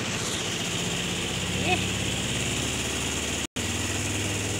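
A washing machine's spin dryer running on a spin timer gives a steady, close motor hum with a constant low drone throughout. Someone speaks briefly over it.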